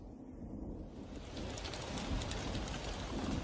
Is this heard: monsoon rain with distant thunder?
yes